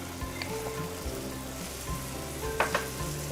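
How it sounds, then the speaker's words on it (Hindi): Curd sizzling as it goes into a hot pan, giving a soft steady frying crackle with a couple of sharper pops near the end. "इसमें हम डालेंगे थोड़ा सा कर्ड"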